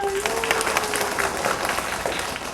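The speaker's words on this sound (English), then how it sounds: "She wants you guys to clap and applaud for her." Audience clapping and applauding steadily throughout, a dense continuous wash of hands with a faint voice underneath.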